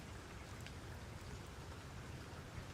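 Steady rain ambience in a video game, a dense even patter of drops with low rumble, constant and unbroken throughout with no voices.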